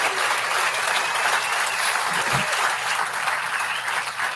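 Crowd at a downtown event center groundbreaking applauding, a thick, continuous round of clapping at steady volume, with a brief low thump midway.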